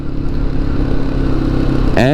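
A motorcycle engine runs steadily up close at a black-sand beach in Georgia, with a continuous low throbbing drone throughout and a brief rising voice or horn-like tone near the end.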